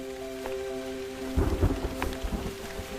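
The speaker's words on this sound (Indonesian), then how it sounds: "Udah hujan ini." Steady rain falls outdoors in Indonesia, with a low rumble of thunder rolling through midway. It is continuous and fairly loud, and no voices are heard.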